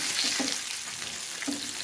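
Stuffed brinjal (baingan) frying in a pan gives a steady, close hiss with a couple of soft knocks as the pieces are turned, and no voices.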